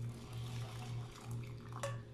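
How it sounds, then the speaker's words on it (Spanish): Running water rinsing rice under hot water in a kitchen, a steady continuous splash and flow throughout, fairly close, with a brief clink near the end and no talking. "lo voy a enjuagar para quitarle un poco de almidón con agua caliente"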